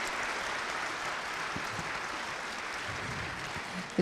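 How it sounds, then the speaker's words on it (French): Audience at a stroke-awareness conference claps, a faint, distant, evenly sustained applause with no individual claps standing out. "On vous applaudit, on vous remercie."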